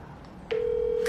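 A steady single telephone tone begins about halfway through and holds to the end, with a short brighter blip at its start and another near the close, heard after a quiet stretch of room noise with no talk.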